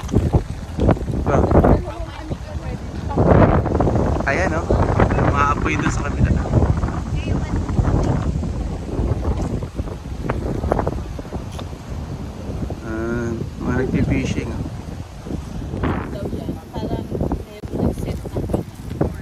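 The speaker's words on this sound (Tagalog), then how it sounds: "Laks ang hangin, no?" Strong wind buffets the microphone on the Fraser River during a salmon fishing outing, a steady roar with rough gusts throughout, while people talk over it.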